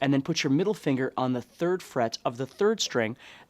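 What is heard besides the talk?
None of the usual background noises is heard.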